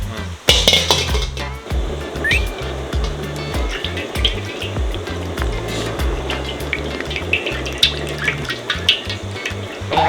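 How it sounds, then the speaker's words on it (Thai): Noodles frying in a pan of hot oil for chicken khao soi: a steady, dense sizzle throughout, with occasional metallic clinks of utensils against the pan, close by. "ทอดเส้นนะ"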